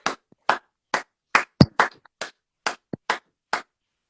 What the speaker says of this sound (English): I'm sorry if I'm clapping so loud